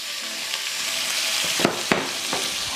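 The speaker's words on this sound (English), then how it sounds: "let's just go ahead and add our ground beef" Ground beef dropped into a hot pan for spaghetti sauce, sending up a steady, loud, close sizzle with a couple of sharp clacks of contact near the end.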